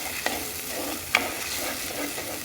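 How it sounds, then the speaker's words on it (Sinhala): Onions frying with ginger and garlic paste are stirred in a pan, giving a steady soft sizzle with a couple of brief scraping knocks from the spoon, close and fairly quiet, with no talking. "දැන් අපි මේ ටික චුට්ටක් කලවම් කරගමු"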